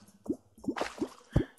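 Water drains away in the game Terraria in a few soft, separate plops and drips, with a brief splashy gush in the middle.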